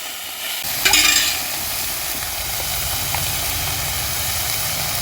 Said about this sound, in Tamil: அதை நல்லா அலசி வெங்காயத்தோட போட்டுக்கலாம். போட்டு எல்லாம் நல்லா ஒன்றா வதக்கிக்கலாம்.